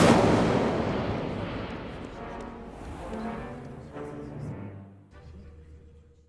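A fire spell cast in Hogwarts Legacy erupts as a loud, booming blast that starts at full force, then fades into a long rumbling tail with crackling flares.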